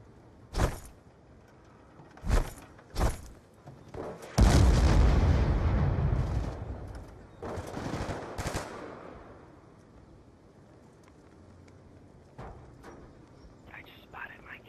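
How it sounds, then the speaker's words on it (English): Bursts of gunfire from the Black Ops 2 video game during a Search and Destroy match, several sharp separate shots followed by a longer rumbling barrage, then fading to quieter distant fire. "Somebody's shooting at me."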